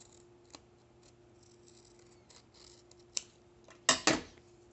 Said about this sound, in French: Et je vais venir couper avec des ciseaux.